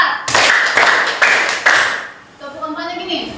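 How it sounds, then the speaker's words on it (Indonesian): A class claps hands rhythmically in a counted pattern, with several crisp, fairly loud claps in a row and then a softer stretch where voices continue. "Tepuk satu, tepuk dua, tepuk tiga, tepuk empat."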